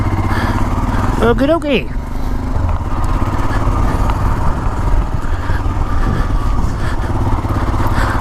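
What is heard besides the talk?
BMW GS motorcycles riding past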